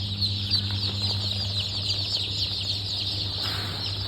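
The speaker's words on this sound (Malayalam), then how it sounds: "ഇവ മുട്ടക്കോഴികളാണ്, ത്രിവേണി മുട്ടക്കോഴികൾ." Triveni laying hens, a White Leghorn, native and Rhode Island Red cross, cluck and murmur continuously at close range, with occasional wing flutters over a steady background hum.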